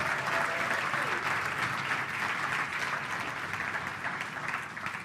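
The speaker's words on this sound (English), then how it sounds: "So can we have a big round of applause for all of them and for Bonnie Saba." Sustained audience applause at an Independence Day-themed gathering honoring Bonnie Saba and others, a dense, steady wash of many hands clapping that holds loud and even throughout before easing slightly at the end.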